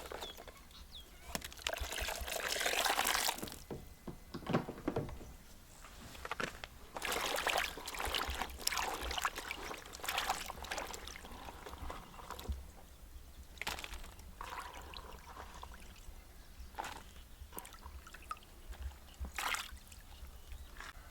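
Water splashing and trickling over freshly picked valor beans and brinjal as they are washed by hand, with uneven bursts of pouring and rinsing, fairly close, no talk.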